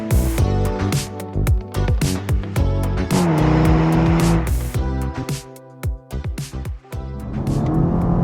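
Toyota sports car, a Supra 2.0 or GR86, accelerating hard with automatic downshifts, the engine revving up and dropping through several gear changes in a loud, close, continuous run with brief tire squeal.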